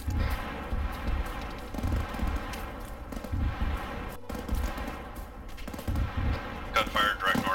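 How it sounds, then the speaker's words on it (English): Gunfire rattles in bursts during a 4th Marine Raider Battalion operation, Op Arch Stand, heavy low booms and cracks layered over a constant rumble, with voices in between. "I'm hearing gunfire north and east."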